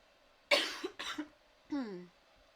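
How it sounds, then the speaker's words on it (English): Two quick, harsh coughs close to the microphone, followed by a short voiced throat sound, then quiet. "Excuse me, I have to cough."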